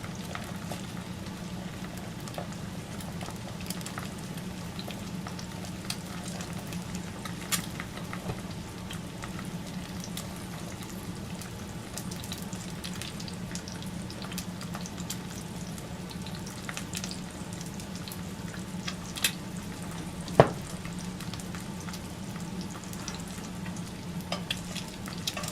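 Eggs frying in fairly deep lard in a well-seasoned cast iron pan give a steady, close, even crackling sizzle that runs on and on, with occasional small pops and a faint low hum beneath, no voices.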